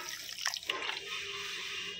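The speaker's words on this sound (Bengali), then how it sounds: "এবার দিয়ে দেব জল।" Water poured into a spice paste of salt and sugar while making fish paturi: a short, close splash and trickle of liquid that fades into a quiet steady background.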